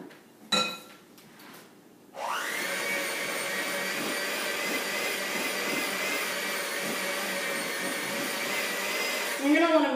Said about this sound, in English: You're going to want to mix that with your mixer as good as you can.